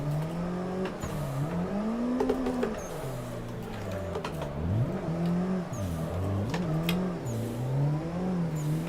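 Car engine in a sim racing game during a drift, revving and whining up and down in long swooping pitch sweeps, loud and continuous, with no talking.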